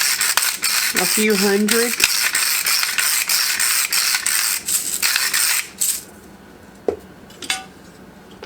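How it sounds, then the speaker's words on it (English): A Sur La Table crank pepper grinder turning out a few cranks of pepper, loud close rapid ratcheting clicks for about six seconds, then a couple of faint knocks, with a brief voice speaking. "my pepper grinder came from Sur La Table, and I love it because of the crank mechanism"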